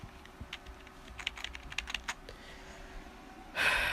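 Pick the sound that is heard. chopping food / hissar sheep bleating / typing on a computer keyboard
typing on a computer keyboard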